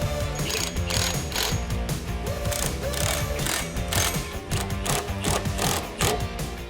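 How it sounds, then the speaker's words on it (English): Impact gun rattling in steady ratcheting bursts while tightening the 5/8 and 9/16 nuts and bolts on a Toro Multiforce mower deck, loud and close, running almost continuously with no talk. "I'm going to go back through with my impact gun and my wrench and tighten everything up"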